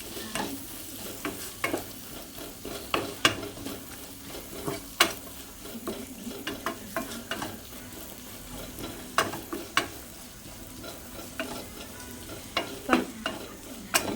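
Onions and spices fry in a pan for masala rice, a continuous sizzle broken by repeated scraping stirs at an uneven rhythm, close and steady with no voices.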